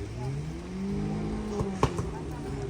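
A Jetour car heard from afar, its engine droning with a rising and falling pitch, broken by a few sharp exhaust pops near the end, with voices talking nearby.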